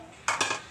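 Dishes, pots and pans clatter together in a short burst of two quick, bright clinks, close and fairly loud.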